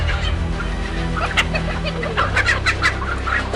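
Caged pullets, seven birds to each cell, cluck and chatter in a busy overlapping flurry over a steady low background hum.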